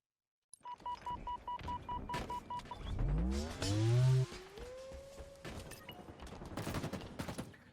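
Two grenades burst in a Halo Infinite ranked match, a deep rumbling blast followed by a second heavy boom, with scattered gunfire and beeping game effects around them.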